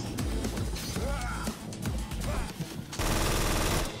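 Gunfire while strafing enemies in the video game Collapse, a dense run of rapid shots with broadband bursts over busy game sound effects and faint talk, louder and steadier near the end.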